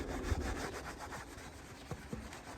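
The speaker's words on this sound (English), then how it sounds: "Normally I rub with one and I wipe with the other, but I've been brushing, which isn't good." A brush scrubs grime off an Audi TT alloy wheel during a refurb, making quiet repeated rubbing strokes up close, with a few soft knocks against the wheel.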